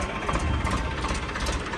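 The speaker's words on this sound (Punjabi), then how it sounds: "ਜਿਵੇਂ ਕਿ ਬਾਈ ਆਪਾਂ ਨੂੰ ਪੱਪੂ ਬਾਈ ਨੇ ਦੱਸਿਆ ਵੀ ਜਿਹੜਾ ਸੈਂਟਰ ਗੇਅਰ ਵਾਲਾ ਟਰੈਕਟਰ ਆ" A Swaraj center-gear tractor engine idles with a steady low rumble and faint knocking vibration, close and continuous, with no talking.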